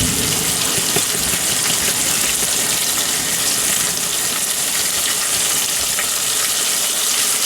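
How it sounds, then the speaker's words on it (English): Shrimp seasoned with a spice mix fry in a pan aboard a sailing boat, giving a steady, close sizzle that holds evenly throughout with no talk over it. "Now I just fry them shortly so that they stay crispy"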